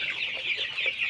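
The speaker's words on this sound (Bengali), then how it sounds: "এই জন্য মুরগিগুলোকে আমি নাড়াচাড়া দিয়ে দিচ্ছি, যাতে মুরগিগুলো গরমে একটু" Farm chickens cluck steadily and close by while they are stirred up to cope with hot weather, a dense overlapping chorus with no voices over it.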